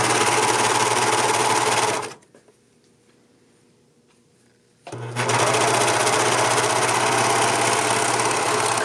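A sewing machine stitches jersey raglan sweater pieces together in two loud, fast, steady runs, separated by a near-silent pause of about three seconds.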